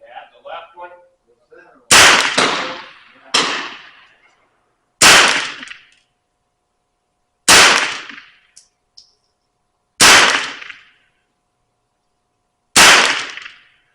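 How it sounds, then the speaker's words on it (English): Six sharp, loud gunshots from a Nylon 66 rifle at an outdoor range, evenly spaced about two to three seconds apart, each cracking and ringing out briefly, with faint voices murmuring just before the first shot. "But which one are you shooting at again, Pat?"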